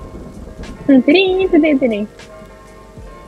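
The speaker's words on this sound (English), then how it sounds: "It's raining." Rain falls steadily in the video game Kingdom Two Crowns, a constant background hiss while a person speaks briefly over it.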